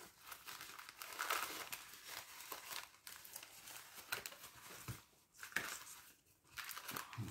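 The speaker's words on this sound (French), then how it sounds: "C'est dommage parce que le scotch il déchire la serviette." Faint, close crinkling and soft tearing of a paper napkin with a snowman on it, pulled against adhesive tape in irregular rustling bursts.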